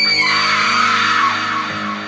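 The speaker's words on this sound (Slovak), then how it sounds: "Hneď ako to povedala, ozval sa hrôzostrašný výkrik" A horrifying, drawn-out scream rings out in a Slovak horror podcast scene set in a cemetery chapel, loud and sustained for about two seconds with no talk over it.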